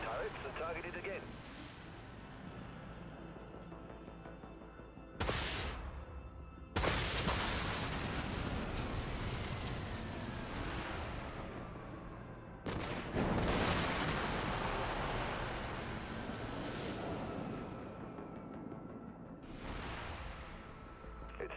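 Ship weapons in the Dreadnought space combat game fire on a target in several heavy booming blasts with long rumbling tails, separated by gaps, over a steady droning background while a voice talks.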